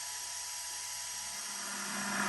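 A loud, steady high-pitched mechanical whine from the dynamotor of a BC348 radio receiver runs continuously, rising a little toward the end.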